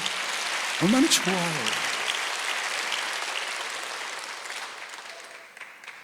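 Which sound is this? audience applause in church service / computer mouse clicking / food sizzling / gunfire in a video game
audience applause in church service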